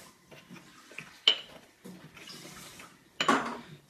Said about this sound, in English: So now we're going to give it another stir and a little bit more crushing